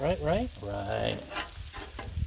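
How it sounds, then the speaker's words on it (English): Beef stir fry sizzles on a Blackstone flat-top griddle as it is stirred, producing a close crackling hiss with intermittent scraping strokes. A brief tonal sound rises at the start. "Start stirring. It's not a stir fry if you don't stir it."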